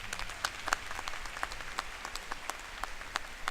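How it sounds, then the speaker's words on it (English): Applause from an audience at a spring university commencement ceremony, a steady wash of many hands clapping at moderate distance, with a few sharper individual claps standing out, no talk over it. "That is worth some applause."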